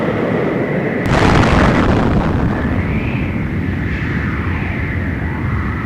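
A huge, deep 12.5-megaton atomic bomb explosion erupts with a sudden crack, then rolls into a long, sustained roar and rumble that fills the space for several seconds.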